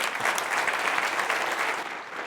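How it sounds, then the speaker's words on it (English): Enthusiastic applause from an audience after a lecture on cancer immunotherapy, dense steady clapping throughout that starts to thin out near the end. "Big round of applause for Dr. Duane Mitchell."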